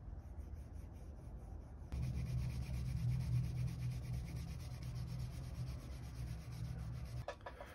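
A canvas cloth rubs Columbus wax briskly along a leather edge while burnishing it: a soft start, then about five seconds of steady, close, buzzing friction with a low squeaky drone that stops abruptly near the end, with no talking.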